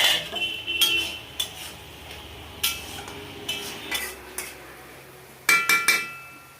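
Metal utensil clinking and scraping against a cooking pot as thick cooked fish curry with raw tamarind, mango and ginger is poured out, with sharp, repeated clinks close by over a steady, low kitchen hiss.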